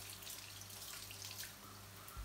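Tap water runs steadily over a veal bone in a kitchen sink, a continuous close wash with no voices.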